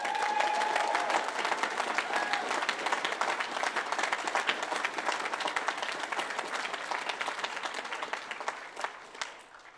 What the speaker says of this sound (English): as all of you in the room applaud that